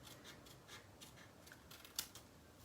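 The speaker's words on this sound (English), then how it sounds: "I'm going to now just trim that off using my snips." Paper snips cut away excess cardstock from a handmade double slot treat box, a run of quick, faint crisp snips close by with a sharper cut near the end, no talking.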